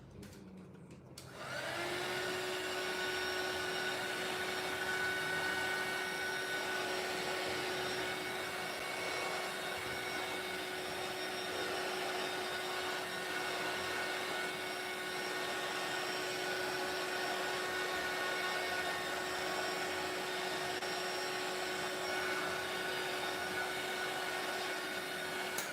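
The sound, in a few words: heat tool drying a mixed media art card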